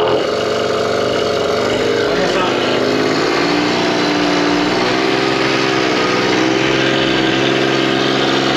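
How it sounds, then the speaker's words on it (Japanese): A Suzuki engine runs steadily just after its first start, a continuous mid-pitched mechanical drone with an even rhythm held close and loud throughout, with some voice present. "間違いなくエンジンかかりました。"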